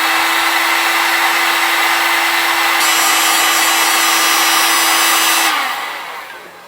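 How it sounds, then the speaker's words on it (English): A heat gun warms glue pellets on a fixed paddle shaft, a loud steady blowing whine with a hum that shifts partway through, then winds down and fades at the end. "Now we just need to heat these up."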